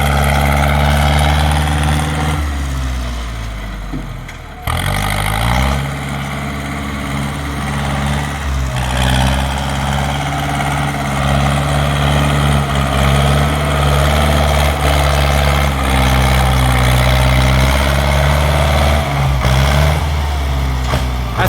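A heavy diesel engine of a Ford 6610 farm tractor runs loudly nearby, chugging steadily with a brief dip in revs before settling back into a constant drone.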